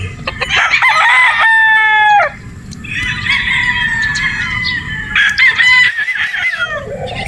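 A rooster crows loudly and close, two long drawn-out calls in a row, with some clucking of other fowl around them.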